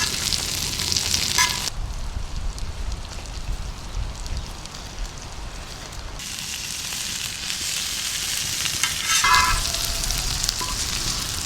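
Sandwa (pomfret) fish pieces sizzle and crackle steadily in a hot pan in a village kitchen, with brief quieter stretches as the pieces are turned, and the frying bursts back loudly; no one speaks.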